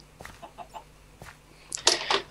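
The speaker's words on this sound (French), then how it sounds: "Il y a une poule quelque part" A Minecraft chicken clucks in a few short, separate calls, clear and fairly close, followed by a louder burst of game noise, with no talk.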